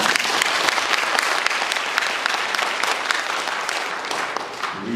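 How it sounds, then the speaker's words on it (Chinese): Audience at a gut-health lecture clapping, a dense, continuous round of applause at close range, holding steady for several seconds with faint speech underneath. "大家拍手是对身体是有益健康啊！"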